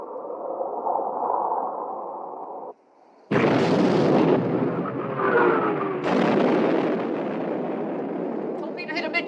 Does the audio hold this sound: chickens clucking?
no